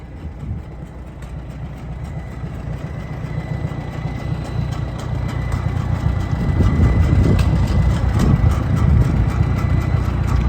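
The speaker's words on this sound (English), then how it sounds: "I'm going to get on the tractor now, take you down the road a little bit like I always do" Farmall M tractor engine running steadily as it moves down the road, a continuous low rumble that swells somewhat louder in the second half, with no talk over it.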